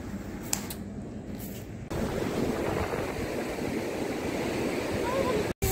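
Sea waves wash in at Puri beach at night as a continuous surf hiss with wind buffeting the microphone, growing noticeably louder partway through before a brief dropout near the end.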